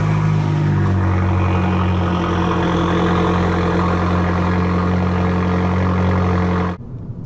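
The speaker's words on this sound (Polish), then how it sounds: "Wydech chociażby po uruchomieniu brzmi tak." A 2023 Abarth 695 Tributo 131 Rally with a 1.4 T-Jet 180 hp engine idles just after start-up, its exhaust giving a loud, steady low burble that cuts off abruptly at the end.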